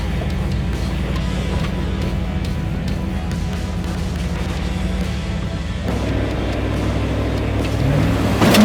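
A 4x4 truck with a T50 engine idles in low range while crawling up a rough Washington trail, a steady low rumble close by that continues without talk.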